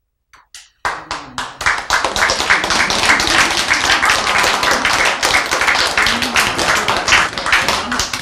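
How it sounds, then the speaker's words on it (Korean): An audience at a lecture bursts into applause after a few scattered claps, then sustains loud, dense, steady clapping close by until the end. "왜 박수 쳐요?"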